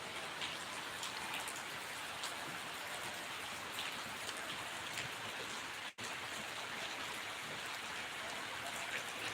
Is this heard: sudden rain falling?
yes